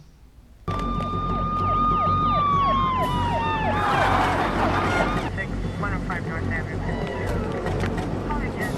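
Police car sirens wail with rising and falling tones that start abruptly and blend with a loud rumbling background, with voices mixed in.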